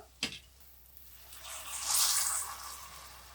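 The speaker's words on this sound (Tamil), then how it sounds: "தேவையான அளவுக்கு தண்ணி ஊற்றிட்டு மூடி வச்சிடலாம்" Water is poured into a pot of spiced biryani masala, starting with a light clink and then swelling into a gushing, splashing pour that peaks and fades over a few seconds, nearby and with no talk.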